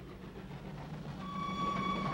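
A train rolls along rails with a low steady rumble that grows slightly louder, a thin high tone rising above it in the second half.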